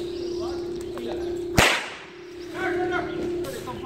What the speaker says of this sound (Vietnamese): ông cầm cái roi ông quất mà nghe cái tiếng mình sợ